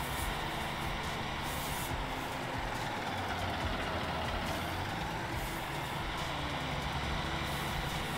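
A truck reversing in Farming Simulator 19, with a steady rumbling engine drone and faint repeating reversing beeps, continuous and fairly quiet, with no talking.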